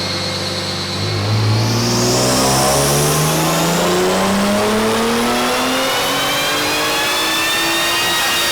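A turbocharged Infiniti Q60 engine on a dyno climbs from idle into a long, loud, steadily rising rev through the gears of a full-throttle pull, with no voices over it.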